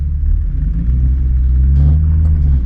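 A Nissan 350Z with a manual gearbox pulls away from a stop, its engine giving a loud, steady low rumble that swells slightly as the car takes off, with no talking.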